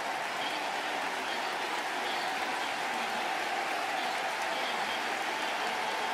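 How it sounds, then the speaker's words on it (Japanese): Sustained, dense applause from a large baseball crowd at Tokyo Dome, Giants fans in the right-field stands clapping for the departing Chunichi Dragons manager at the season's final game; a steady, even roar of clapping throughout. "ライトスタンド、ジャイアンツファンからも大きな拍手です"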